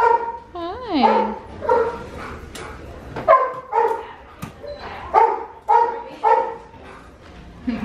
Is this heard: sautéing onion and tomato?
no